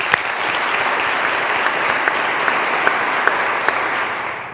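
Loud, sustained applause from a parish audience at a church annual meeting, a thick even roar of clapping with a few sharper individual claps standing out.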